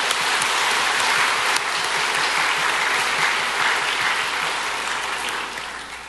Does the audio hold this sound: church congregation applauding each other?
yes